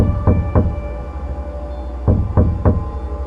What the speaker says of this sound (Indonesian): Ketukan mulai terdengar di seluruh dinding rumah, atas, bawah, samping, belakang, seperti ratusan tangan mengetuk rumah bersamaan